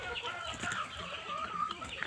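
Bisaya native chickens clucking in a backyard flock, a soft continuous murmur of clucks and low calls, close and moderately quiet, with no voices.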